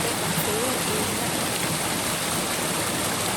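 A stream running beneath wooden footbridges at an Alberta trout hatchery flows with a steady, dense rush of water, continuous and fairly close throughout.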